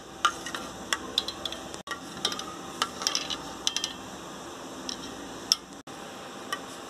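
Ghee melting in a container set in a hot water bath being mixed, with light scattered taps and clinks of a spoon against the vessel over a faint background hiss.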